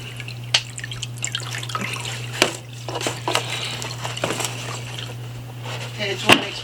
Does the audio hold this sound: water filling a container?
yes